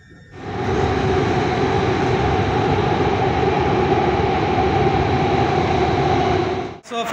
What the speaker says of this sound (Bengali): সো প্রায় 2 মিনিট পরে কিন্তু মেট্রো চলে আসলো।